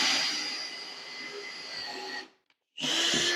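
Power drill boring a hole into a wall, a loud high whining motor run that holds steady for about two seconds, cuts out briefly, then starts again.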